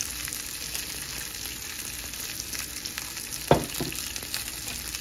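Oxtail pieces frying in olive oil in a pan, a steady close sizzle throughout with one sharp clack of a utensil or pan partway through.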